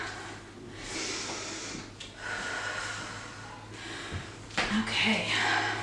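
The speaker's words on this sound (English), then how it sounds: "I'm sure you can hear me breathing super heavy already." Heavy, labored breathing during a lower-body workout, with close, loud breaths and snort-like exhales arriving in uneven bursts.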